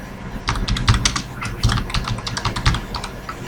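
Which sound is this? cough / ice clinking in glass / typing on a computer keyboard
typing on a computer keyboard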